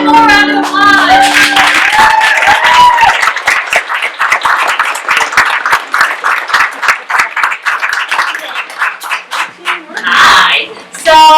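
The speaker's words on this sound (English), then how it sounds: "And let's give them one more round of applause." Audience at a New York teen theatre festival applauding young actors, loud clapping swelling and then thinning into scattered claps, with voices and cheers over it.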